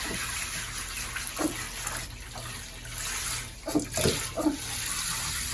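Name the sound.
water rinsing a Pomeranian puppy during a bath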